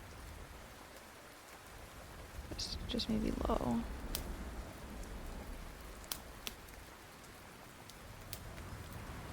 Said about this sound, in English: I want to hear the rain, but I want it to be light outside.